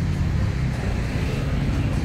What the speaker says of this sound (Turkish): Arkada çok fazla araba gürültüsü var.